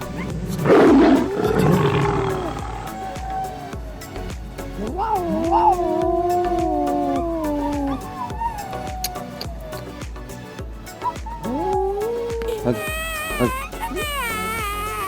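A cat growls and yowls in rising, wavering tones, loud and close, with a brief scuffle at the start and a voice breaking in.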